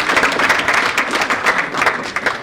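An audience at the final session of a national conference breaks into steady, dense applause for a speaker, sustained and fairly loud throughout with no voices over it.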